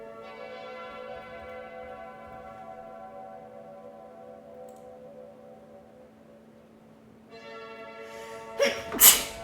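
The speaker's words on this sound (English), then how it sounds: "a wild sneeze is what I had, but I should be fine." A sudden sharp sneeze bursts out near the end, loud and close, following a long stretch of steady tonal hum.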